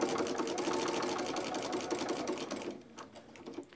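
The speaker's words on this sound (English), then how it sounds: "So we're going to sew directly to this line." A sewing machine stitches binding onto a quilt, a close, steady mechanical whir with fast needle clatter that softens slightly toward the end.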